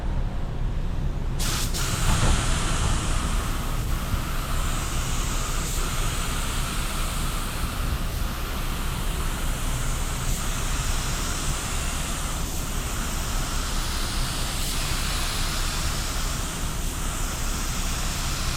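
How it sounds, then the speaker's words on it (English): A DIY spray gun sprays clear coat in a steady, loud hissing stream of air and atomized paint that runs continuously after a brief start, with faint periodic pulses and no talking. "So now we got clear coat, and we're going to spray some clear"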